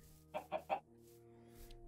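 Chickens clucking in Minecraft on a farm build: three short, distinct clucks in quick succession, close and clear, then a faint extra cluck against near silence.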